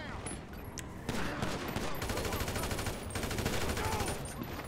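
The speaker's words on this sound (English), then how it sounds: "We in a shootout." Sustained gunfire from a shootout in the video game GTA 5, rapid overlapping shots and bursts running continuously throughout, loud and dense, with some voices mixed in.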